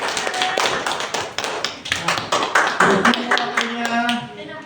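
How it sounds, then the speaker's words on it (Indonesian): Applause in a classroom during a micro-teaching session, many hands clapping in a dense, steady patter close by, continuing for several seconds with some voices underneath. "Beri tepuk tangan."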